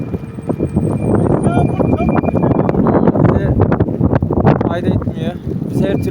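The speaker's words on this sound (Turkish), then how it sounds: "Acayip rüzgar var." Strong wind buffets the microphone in loud, rough gusts while a person talks over it during an electric bicycle or scooter ride in rain.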